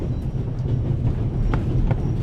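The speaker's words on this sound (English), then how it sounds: "The noise on this train is driving me crazy." Steady low rumble and rattle of a train rolling along on the Orient Express in the game The Raven, with faint rhythmic clacks over a continuous drone and no voices.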